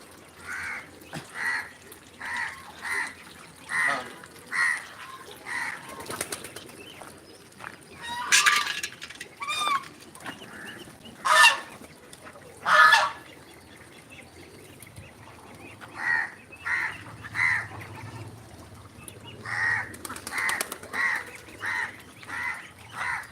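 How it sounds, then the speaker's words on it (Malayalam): A crow caws repeatedly in short bursts, pausing and resuming, with a few louder harsh calls in the middle against a quiet outdoor background. "കാക്ക കൂക്കിക്കൊണ്ട് നിൽക്കുന്നു"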